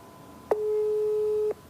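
A single steady busy-signal tone sounds when dialing a mobile phone in Iran during an internet blackout, one long clear beep lasting about a second over a faint line hiss, with no talking.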